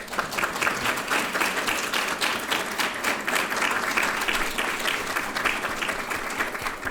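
Steady applause from a room of scholarship reception guests, dense and even clapping that holds throughout without talk.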